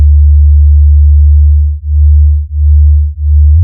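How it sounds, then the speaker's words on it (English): Two slightly detuned sine wave synth oscillators produce a loud, steady low tone that swells and dips in a slow regular pulse, about every two-thirds of a second, with no voices. "Now if I add a second oscillator slightly detuned from the first,"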